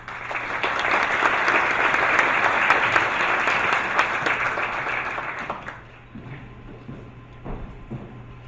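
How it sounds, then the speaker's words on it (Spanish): A large audience welcomes a guest speaker with loud, sustained applause that fades out near the end, leaving a quieter room with low hum and a few stray sounds. "recibamos con un fuerte aplauso al señor Mario Galofre Cano"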